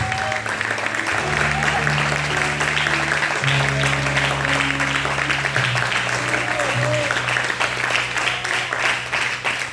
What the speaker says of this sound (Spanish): Vamos a aplaudirle fuerte.